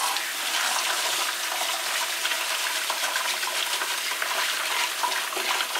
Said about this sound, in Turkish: Suyu boşaltalım.